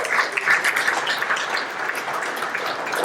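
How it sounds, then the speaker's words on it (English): A crowd at an outdoor whale victory celebration applauds steadily, a dense, even wash of clapping that holds at a moderate level throughout without breaks. "give yourselves a round of applause for that"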